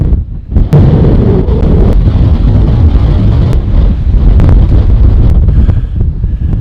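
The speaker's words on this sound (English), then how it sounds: "Not only is it really windy," Strong wind at Nakalele Blowhole on Maui buffets the microphone in loud, continuous rumbling gusts, with no other clear sounds.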